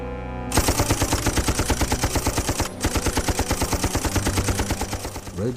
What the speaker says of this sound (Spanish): Las ametralladoras Maxim de Rhodes iban segando una y otra vez a los Matabele que avanzaban.